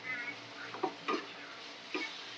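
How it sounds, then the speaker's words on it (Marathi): Chikoo and jaggery mixture being stirred in a pan, with a soft steady sizzle and a few faint scraping strokes of the spoon, quiet and close. "ते आता इथे सतत ढवळत राहायचं गूळ पूर्णपणे वितळत नाही तोपर्यंत"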